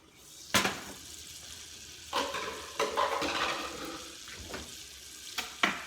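A whisk mixes flour into melted butter in a pan to make a roux for a velouté, giving soft scraping swishes broken by several sharp clacks of the whisk against the pan.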